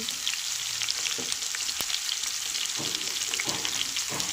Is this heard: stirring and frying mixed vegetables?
yes